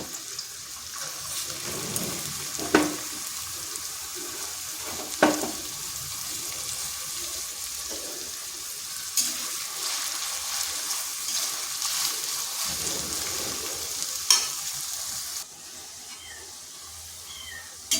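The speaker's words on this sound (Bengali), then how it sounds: "এরপর দিয়ে দিচ্ছি কেটে রাখা এরকম 3টা পেঁয়াজ। পেঁয়াজটাকে ভেজে নেব।" Three sliced onions frying in oil for a home-style chicken biryani: a continuous soft sizzle and bubbling, with a few sharp clinks of a spoon against the pan spread through it.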